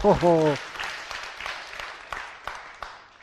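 A short vocal tone opens, then a room full of people claps in a scattered, rhythmic round of applause that gradually fades.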